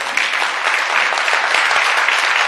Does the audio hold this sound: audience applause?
yes